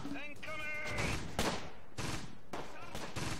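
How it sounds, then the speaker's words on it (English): Mortar and gunfire bursts from the WWII strategy game Close Combat: Gateway to Caen crack in repeated volleys, partly masked by someone talking throughout. "Get the mortars to start laying down fire."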